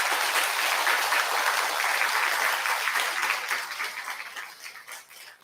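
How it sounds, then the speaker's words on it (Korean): A crowd at a Buddha's Birthday Buddhist service applauds warmly with dense, continuous clapping that gradually thins and fades out over the last couple of seconds. "우리 서가모니 부처님한테 큰 박수 한번 부탁드릴게요"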